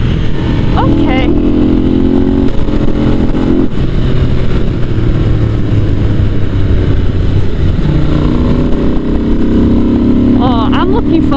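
Ducati motorcycle engine roaring loudly and steadily while riding, with deep rising engine tones and persistent wind rush throughout; a voice speaks briefly over the engine noise.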